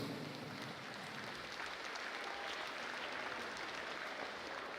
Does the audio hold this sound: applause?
yes